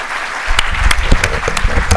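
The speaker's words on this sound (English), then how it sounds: "So please, a big round of applause for His Excellency." An audience at a food security event on Somalia and the Horn of Africa bursts into loud, sustained applause, dense clapping starting abruptly and continuing close and full.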